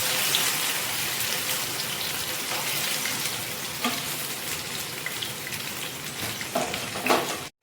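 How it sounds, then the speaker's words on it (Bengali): Pumpkin leaf fritters coated in lentil batter deep-frying in a wok of hot white and mustard oil, giving a dense, steady, rain-like crackle throughout with a few small clinks near the end. "এবার পাতাগুলোকে এক এক করে এর মধ্যে দিয়ে আমি আস্তে আস্তে ভেজে নেব।"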